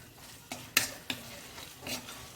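A spoon stirs chicken curry masala with coriander powder in a pan, making a few sharp scrapes and clinks over a faint background sizzle.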